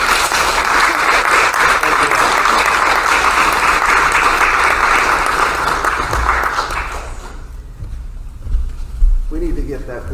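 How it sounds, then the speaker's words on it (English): A church congregation bursts into loud, sustained applause during a worship service, which fills the room for several seconds before dying away into quieter talking. "Let's give them a round of applause one more time."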